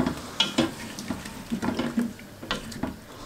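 Crushed tomatoes stirred in a pan, a spoon scraping and squelching in a series of irregular strokes with a faint background sizzle, close and moderately loud.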